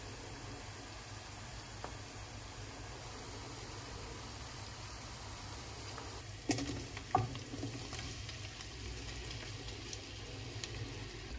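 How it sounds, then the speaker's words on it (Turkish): Onions and peppers frying together in oil in a pan for a potato pide filling: a steady, close sizzle runs throughout, broken midway by a few brief scraping and stirring clatters. "Şimdi biberlerimi ilave ediyorum. Birlikte pişmeye devam etsin."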